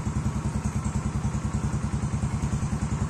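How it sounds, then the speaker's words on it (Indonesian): A motorcycle engine idling while still cold, with an idle speed control valve replaced yet still showing error 37, thumps in a steady, even rhythm up close, loud and alone with no talking. "Dan ini kondisi RPM saat mesin masih dingin ya."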